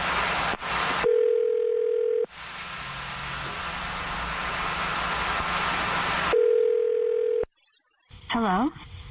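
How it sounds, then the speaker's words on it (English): A steady telephone tone, then a noisy line, another tone and a quick electronic warble, like a call being placed and connecting. "I'm going to dial the phone number right now"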